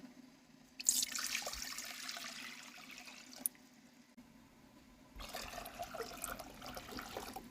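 Tap water runs into a pot to make a marinade for pickled cauliflower, a faint hissing stream in two bursts with a quiet pause between, close by in a quiet kitchen.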